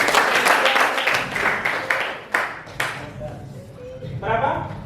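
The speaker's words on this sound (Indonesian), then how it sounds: "Tepuk tangan untuk temanmu." Applause from a high school classroom for a student who answered a function problem, a burst of clapping with students' voices mixed in, fading and picking up again.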